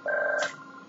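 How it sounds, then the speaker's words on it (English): A telephone goes off with a single brief electronic ring tone that cuts off abruptly, heard alone and close. "This phone is going to go off multiple times during this review."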